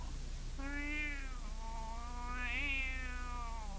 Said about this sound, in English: Oh, well now, Kitty, what do you see there, inside the ash?